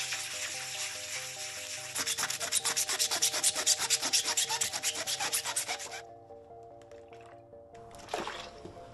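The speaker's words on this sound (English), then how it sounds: "Another method is using aluminium foil. I used it only for a few seconds," Crumpled aluminium foil scrubs rust off the metal of a vintage Singer sewing machine, making a fast, rhythmic, close-up scratchy rubbing that runs for several seconds before stopping.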